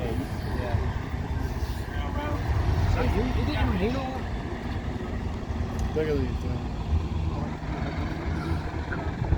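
A coach at a coach rally in Blackpool creeps onto the tyre pad, its diesel engine giving a constant low rumble. Voices carry over the engine throughout.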